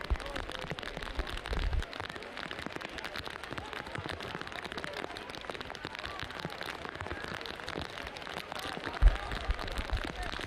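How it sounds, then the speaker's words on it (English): Steady rain falls on an outdoor lacrosse field during a match, a faint continuous patter and hiss with no talk over it. "Okay, so feel duty bound to give another rain update. It's getting heavier."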